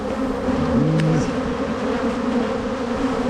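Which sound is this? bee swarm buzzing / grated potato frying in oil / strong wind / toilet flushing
bee swarm buzzing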